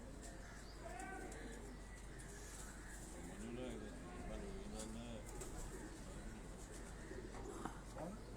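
Tonsi pigeons kept at a home in Lahore coo softly in repeated low burbling calls, fairly faint, beneath someone talking nearby.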